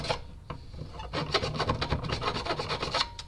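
A hand file rasps back and forth over aluminium to deburr an edge, a steady run of quick, close, moderately loud strokes with no pause and no talking.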